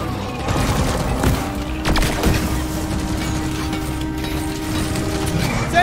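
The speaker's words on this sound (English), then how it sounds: "Reloading! Reloading!" Weapon reloading in the Deep Rock Galactic video game: clicking, ratcheting mechanical clacks and thumps over a constant rumbling background, fairly loud and close.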